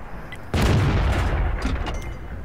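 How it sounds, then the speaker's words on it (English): A single heavy tank cannon shot in World of Tanks from a SPIC tier 7 German light tank, a sudden loud boom with a rumbling decay over about two seconds, with no talk. "I take a couple of shots"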